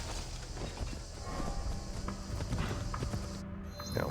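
Horse hooves clip-clopping at a walk in the video game Assassin's Creed Shadows, a steady, even rhythm of hoofbeats over a faint ambient background.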